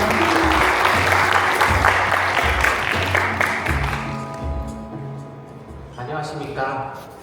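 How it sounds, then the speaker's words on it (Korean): Audience applause welcoming a research engineer onto the stage at a launch event for the second-generation Hyundai Nexo hydrogen electric car, loud and dense at first, then fading under a voice that begins speaking. "큰 박수로 환영해 주시기 바랍니다."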